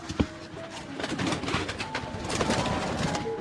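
Parava pigeons at a breeder's loft near Kappad beach in Kozhikode, with soft cooing amid a steady bed of bird calls and background noise, no talk.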